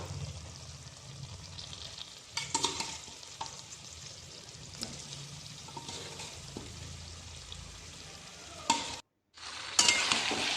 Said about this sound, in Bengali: চিকেনগুলো মশলার সাথে ভালো করে কষিয়ে নেব